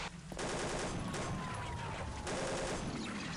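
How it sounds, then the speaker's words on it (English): Dense, rapid gunfire from the video game Insurgency, with overlapping shots and bursts in a near-continuous loud barrage filling the whole stretch after a brief quieter opening. "Never mind, I have to shoot that one"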